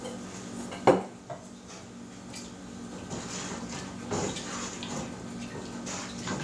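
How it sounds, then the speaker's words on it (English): A flour mixture stirred into homemade potato soup in a pot, with clinking and scraping of a utensil against the pot and a sharp knock near the start, wet sloshing underneath. "And then just dump that right in the soup and stir it in."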